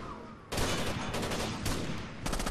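Shotgun fire in the shooter game Rainbow Six Vegas 2: heavy, loud blasts that start abruptly and repeat in a rough, rapid rhythm, with dense gunfire filling the whole stretch.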